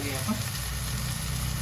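Spices with red chilli powder, garam masala, coriander, fennel powder, turmeric and salt sauté in a hot pan for moong sprouts pulao, giving a steady close sizzle with light stirring throughout.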